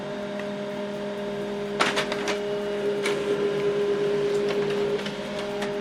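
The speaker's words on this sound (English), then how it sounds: "This is the document we are printing." An HP LaserJet M140we laser printer prints a document, giving a steady mechanical hum with a whining tone, broken by a few sharp clicks and paper-feed clatters partway through.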